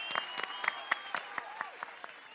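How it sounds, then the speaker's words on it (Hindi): Audience applause for Sodhi at a lively Taarak Mehta Ka Ooltah Chashmah gathering, a run of sharp, spaced claps over a thin crowd murmur with a faint melodic line in the background. "पहले आप लोग जरा सोढ़ी जी के लिए तालियां बजाएंगे"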